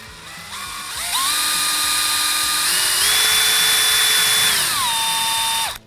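A small power drill bores into a crankbait fishing lure with a high, steady whine that rises and shifts pitch as the bit works into the body, then cuts off abruptly, close and alone.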